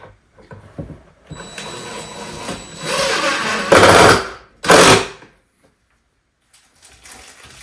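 A power drill drives screws through a shelf front board into a kitchen wall, with a rising whir and two short loud bursts of the motor, followed by quiet.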